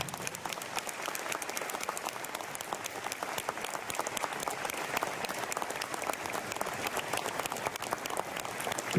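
A crowd at a town's anniversary ceremony applauds as the town flag is presented, many hands clapping in a loud, steady, continuous burst that holds throughout.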